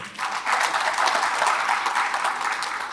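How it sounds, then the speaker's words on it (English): Steady, dense applause fills a large room as the audience at an agribusiness breakfast summit claps at length for a presenter, sustained and even throughout with no voices standing out. "Please, ladies and gentlemen, another round of applause"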